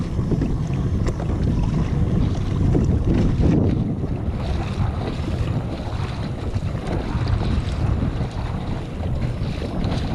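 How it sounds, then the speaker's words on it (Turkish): Steady, loud wind rushing head-on over a fast-moving fishing boat at sea in waves, with a constant low roar and splashing water throughout, no voices. "Rüzgar karşıdan esiyor şu anda."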